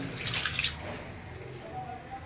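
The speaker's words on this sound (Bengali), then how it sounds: "আলুগুলো একটু কষিয়ে নিয়ে এবার এর মধ্যে জল দিয়ে দিচ্ছি।" Water pours into a pan of sautéed potatoes for a thin fish curry with drumsticks, a short splashing gush at first that fades into a quiet trickle and low simmer.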